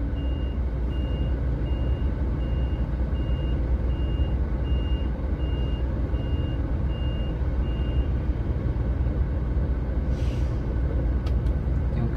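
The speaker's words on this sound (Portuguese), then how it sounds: "Tem um caminhão lá atrás lá." A truck backs up on a road in Sergipe, Brazil, its reversing alarm giving a steady series of evenly spaced beeps over a constant engine rumble, with the beeping stopping partway through.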